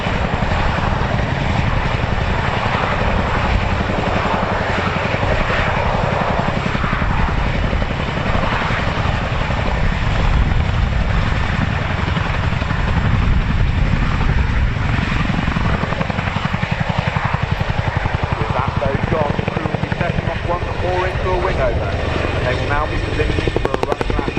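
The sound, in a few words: fighter jet flying at airshow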